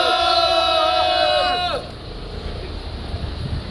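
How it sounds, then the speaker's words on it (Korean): A small group of protesters at an outdoor press conference lets out a sustained, loud, unison rallying shout. It breaks off after about two seconds into windy ambient noise with faint background voices. "우리의 힘찬 함성과 함께 시작하도록 하겠습니다."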